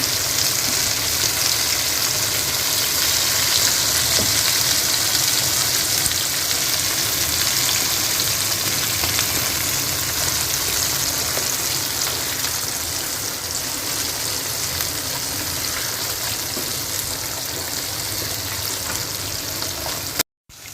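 Karli fish pan-frying on its second side, a steady loud hiss of hot oil sizzling continuously and close, with no talk, before cutting off abruptly at the end.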